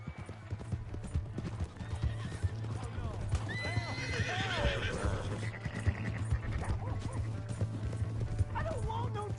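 A horse in a PS4 video game trots with rhythmic clip-clopping hooves and lets out whinnying neighs over a low, constant background hum.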